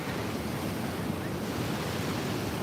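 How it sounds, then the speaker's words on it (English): Big ocean waves breaking on a beach at Fingal, Australia, a loud, continuous roar of surf with wind noise buffeting the microphone, and no voices. "Yeah, they are some big waves."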